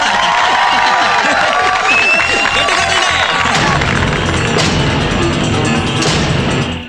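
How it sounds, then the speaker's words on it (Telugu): A classroom crowd in a Telugu comedy film breaks into loud, dense clapping and cheering for the class representative, a sustained roar of hands and shouting voices that ends abruptly. "రాయ్ క్లాస్ రేప్ ని అభినందిస్తూ చప్పట్లు వేసుకోండి."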